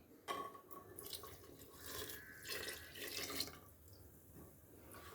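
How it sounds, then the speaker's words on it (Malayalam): Thin second-press coconut milk poured into a pan on a gas stove for a cracked-wheat payasam, a faint splashing, trickling pour that swells and fades over several seconds, quiet and close with no talk. "ഈ തേങ്ങാപ്പാൽ 2-ാം പാൽ ഒഴിച്ചു കൊടുക്കാം"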